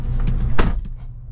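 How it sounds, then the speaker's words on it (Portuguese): A single solid thump as the door of an Abarth car swings shut, landing mid-clip over a low steady hum, followed by a short fading tail. "Pronto, agora fechou a porta."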